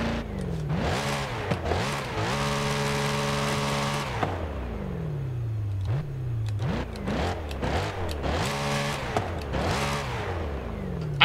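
Chevrolet C8 Corvette Z06 in Forza Horizon 5, its engine revving hard in repeated rising sweeps that drop back between pulls, loud and close with no talk.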